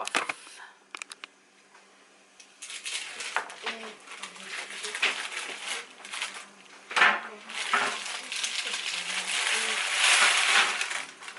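Caramel cookies slide and scrape off a metal baking pan, with a few clattering knocks followed by a longer grinding, rattling scrape that swells toward the end, close and fairly loud.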